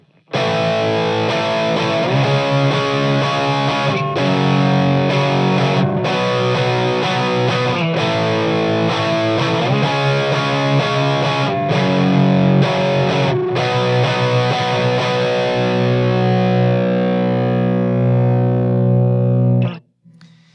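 Distorted electric guitar plays a riff in loud, steady chord strums with sustained ringing tones, running continuously for about twenty seconds before stopping abruptly.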